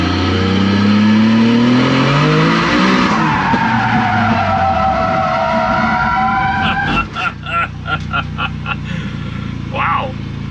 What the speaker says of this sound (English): let's give her a little bit of drifting try